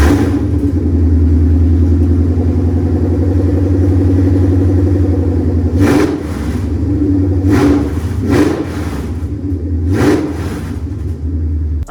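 A Ford Coyote V8 in a widebody Mustang idles with a loud, steady rumble close by, then several sharp throttle blips rev it up between about six and eleven seconds.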